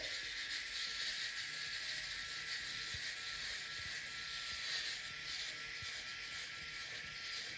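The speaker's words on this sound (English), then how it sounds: "Let's get the shave on." A rechargeable USB-C men's electric shaver runs across a face, giving a steady, close, high-pitched buzz that holds for the whole stretch with no talking.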